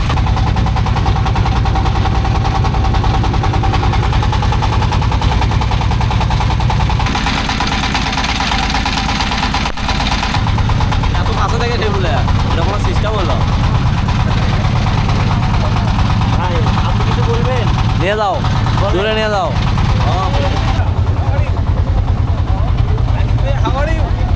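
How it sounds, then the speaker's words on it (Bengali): A boat engine runs steadily throughout, a continuous loud drone setting off on a trip to a remote river char, with chatter and voices over it in the second half. "আমাদের নৌকা স্টার্ট হয়ে গেল"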